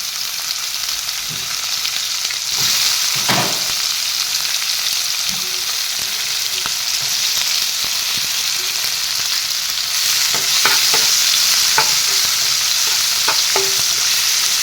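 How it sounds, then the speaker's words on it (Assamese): Onions sizzle and fry with whole cumin in a kadai, a steady close hiss with occasional stirring scrapes and clinks, no talking. "সেই কেৰাহীটোতে মই কেইটামান জিৰা দিলোঁ, গোটা জিৰা। তাৰপিছত দি দিছোঁ পিঁয়াজখিনি।"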